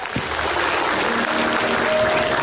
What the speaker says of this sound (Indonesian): Iya, Kimau, tepuk tangan untuk Kimau